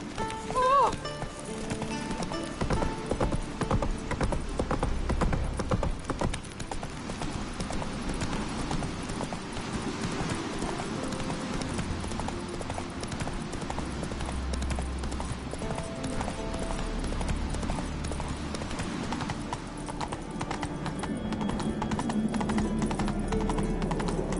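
Roach the horse gallops in The Witcher 3, hooves clip-clopping in a steady rapid rhythm throughout, loud and close, with occasional whinnies and game ambience beneath.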